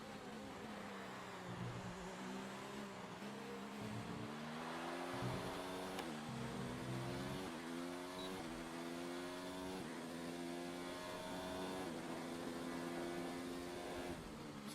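A Formula 1 car engine in the F1 2019 racing game at the Mexican Grand Prix drones steadily with rising and falling harmonic pitch as it shifts through gears, sustained and moderately loud throughout.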